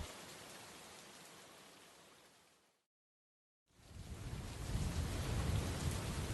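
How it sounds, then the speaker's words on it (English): Steady heavy rain pouring in the Minecraft video game, a dense hiss that fades out, breaks into a moment of silence, then returns louder and fuller. "but the rain continued to pour."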